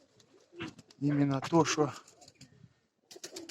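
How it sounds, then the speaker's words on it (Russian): Pigeons coo in soft, throaty bursts, the loudest call swelling briefly mid-clip while someone talks over and between them outdoors. "Вот они, голуби."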